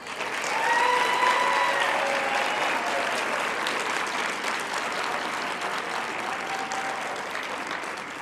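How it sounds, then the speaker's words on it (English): A graduation ceremony audience at a university faculty of economic and management sciences breaks into sustained applause, a dense crowd of clapping that swells quickly and continues steadily for several seconds. "I see others are applauding."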